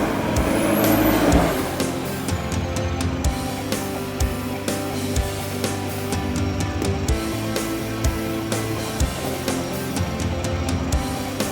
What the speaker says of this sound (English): as you can see at this specific spot, how the vehicles is just breaking away the sand barrier